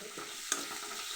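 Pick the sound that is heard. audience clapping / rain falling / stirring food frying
stirring food frying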